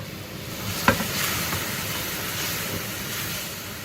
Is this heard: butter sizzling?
yes